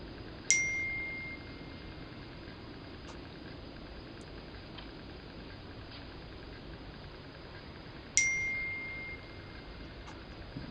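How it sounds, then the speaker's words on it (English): A phone notification dings twice, each a bright, clear chime with a short ringing tail, the two about eight seconds apart over a steady low background hum in an otherwise quiet setting. "Sorry for the phone dinging."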